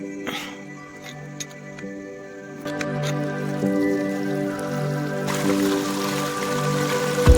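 Water being let into a field channel on a village farm, a soft trickle and splash under a steady low hum that swells into a fuller rushing flow partway through.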